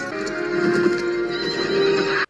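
A horse from the action film True Lies neighs loudly while its hooves clop steadily on a hard floor, the whinny rising over continuous stamping throughout the short, close sequence.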